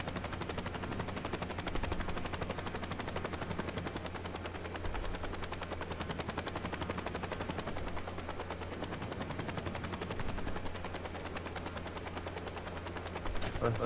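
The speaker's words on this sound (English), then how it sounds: "I was just taking a chopper." A steady, fast chopping helicopter rotor drone in the video game Saints Row, with a constant low hum running throughout at a fairly low level.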